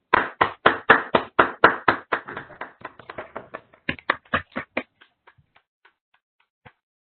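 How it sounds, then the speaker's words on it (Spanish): A small conference audience gives brief applause: a handful of close, distinct claps that thin out into a few scattered final hand claps and then silence. "Un aplauso, gracias, por favor."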